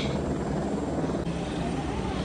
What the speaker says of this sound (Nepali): हेलिकप्टर चाहिँ यही लानु हुँदो रहेछ